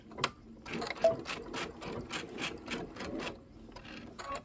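A domestic sewing machine stitching fabric for a quilted table topper, running in a quick series of short mechanical bursts with a steady rhythmic needle clatter, close and fairly quiet, with no talking.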